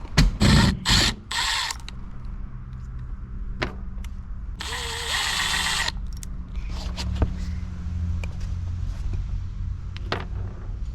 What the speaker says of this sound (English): We're gonna go ahead and remove those screws on the top, and then the headliner should be able to drop.